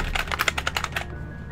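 A player's computer keyboard clatters in a quick burst of distinct key strikes during a Lethal Company session, close and crisp, then stops abruptly, leaving a faint hum and a thin tone for the final half second.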